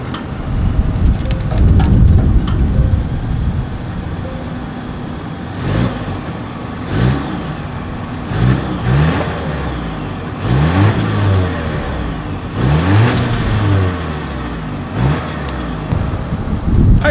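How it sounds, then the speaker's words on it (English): Exhaust of a 2022 Volvo S60 midsize sedan, a series of loud engine revs that rise and fall in repeated bursts over a steady idle, heard up close with no voices. "Here is that exhaust clip."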